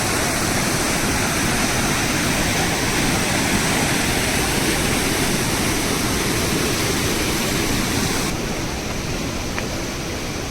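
Steady rushing of a small waterfall on a hiking trail in Glacier National Park, Montana, a continuous broadband roar of falling water that stays even throughout with no voices.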